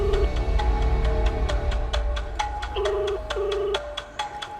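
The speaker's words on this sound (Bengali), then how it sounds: "রিং হচ্ছে।" An electronic phone ringtone plays a repeating sequence of beeping tones in a steady rhythm, moderately loud and close, with no talking.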